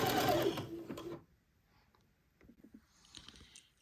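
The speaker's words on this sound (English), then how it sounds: "this is going to take me a minute to zigzag all the way along the length of this leg hole opening" A sewing machine runs a zigzag stitch along the leg hole opening of a garment in a burst of fast, close mechanical patter, then stops, leaving only faint handling sounds.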